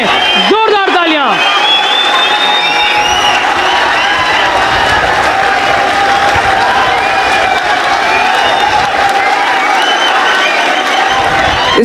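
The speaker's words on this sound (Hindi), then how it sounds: "इस्तकबाल करें, जोरदार तालियां।" Loud, sustained applause and cheering from an audience at a Hindi-Urdu shayari poetry gathering, dense clapping filling the room with a voice briefly calling out at the start.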